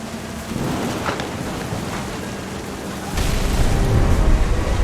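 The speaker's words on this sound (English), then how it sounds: "The thunder sounded much too close and full of angry power" Game thunderstorm from What Remains of Edith Finch: steady hiss of rain throughout, with a deep rumble of thunder building and growing louder in the second half.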